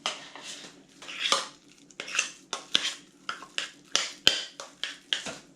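Spoon clatters repeatedly against a bowl as wine vinegar and salt are stirred in for a Roman pulse dish, a close, rhythmic series of clinks and scrapes with no talking.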